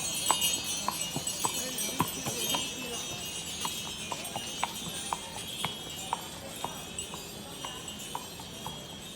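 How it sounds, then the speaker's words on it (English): Horse hooves clip-clop steadily on a street in Mijas as the animal pulls a carriage, a regular rhythm of sharp hoof strikes over a constant outdoor background hiss. "the horse seemed to know exactly where it was going without the driver knowing"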